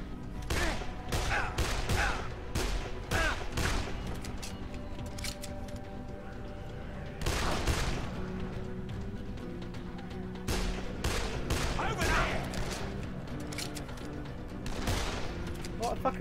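Repeated gunfire from the Dead Island video game, with bursts of shots and heavier volleys spread across the clip over a steady background of game sound, and speech mixed in.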